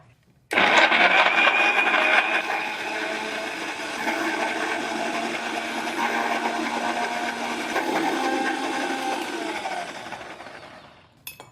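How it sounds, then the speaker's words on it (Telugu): A mixer grinder runs loud and steady as it grinds a mixture in a home kitchen, starting abruptly and whirring continuously with slight shifts in pitch before stopping at the end. "So mixie పట్టేద్దాం."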